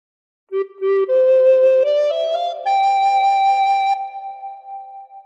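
A recorder plays a phrase of The Star Spangled Banner, a few clear sustained notes stepping upward and holding, solo and close with no voices.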